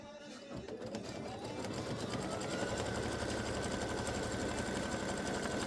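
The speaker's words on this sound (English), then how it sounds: "I'm going to stitch this fabric down" An embroidery machine runs continuously, stitching fabric down on an in-the-hoop Halloween pumpkin face design, a dense, steady mechanical chatter with a rising whine that settles into an even pitch, close and alone without speech.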